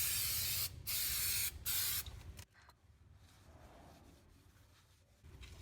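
Spray cleaner blasting onto the frame of a Toyota pickup truck, three loud close hissing bursts in quick succession, followed by quieter dripping and faint spatter.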